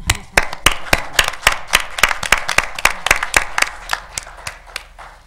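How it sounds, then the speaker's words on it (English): A round of applause at a city council meeting, a small group clapping with distinct individual claps close by, a sparse, uneven patter lasting several seconds. "Can we give a round of applause,"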